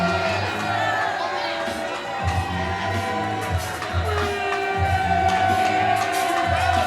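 A wrestling arena crowd at a Wrestling Evolution show cheers and whoops as a wrestler walks to the ring, a sustained roar over music, with a commentator's voice heard on top.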